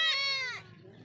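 Beetal goat kid giving a single bright, nasal bleat up close, about half a second long, then fading into quiet background murmur.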